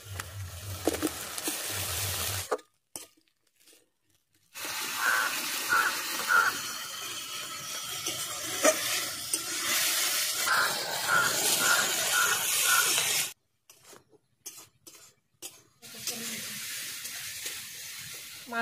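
Chopped tomatoes hitting hot spiced paste in a pan, a loud sustained sizzle and hiss with stirring scrapes, broken by a couple of silent gaps, close and without talk.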